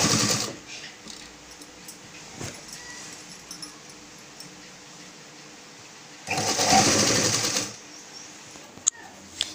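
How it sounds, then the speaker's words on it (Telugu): Sewing machine stitching a dhoti dress, a steady mechanical whir running through most of the stretch with a louder, faster burst near the end, close up with no talk. "చూడండి డ్రెస్ మొత్తం ఈ విధంగా స్టిచ్ చేసేసాను."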